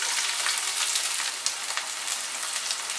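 Chopped onion fries in oil over a medium flame, giving a continuous, even hiss of crackling sizzle with scattered small pops, steady and fairly close throughout.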